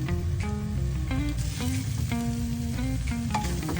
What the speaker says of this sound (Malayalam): ഇതെല്ലാം ഇട്ടത് ഒന്ന് നന്നായിട്ട് പച്ചമണം മാറുന്നവരെ ഒന്ന് ചെറുതായിട്ടൊന്ന് മൂപ്പിക്കുക